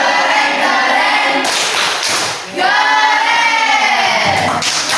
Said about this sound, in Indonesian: tepuk keren dulu buat temannya